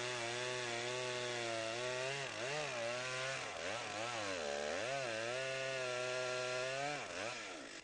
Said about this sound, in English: they stop the chainsaws